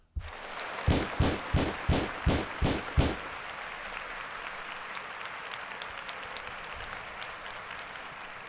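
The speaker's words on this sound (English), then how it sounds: "clap it up for my man" Audience applause opens with seven sharp, evenly spaced rhythmic claps, then settles into a softer, continuous wash of crowd clapping and noise.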